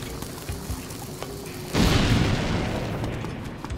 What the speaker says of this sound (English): Running out of bombs.